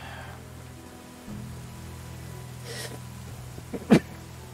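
A character sneezes once in the Medieval Dynasty video game, a short sharp burst near the end over soft ambient game sounds with faint rain-like background.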